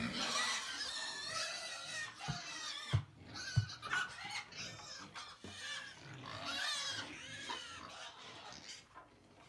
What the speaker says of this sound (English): Pigs on parade.